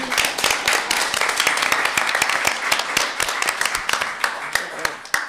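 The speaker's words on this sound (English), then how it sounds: "I think that deserves a round of applause." Applause fills a school district board meeting room, a dense, steady patter of many hands clapping at close range for several seconds, with scattered sharper individual claps standing out.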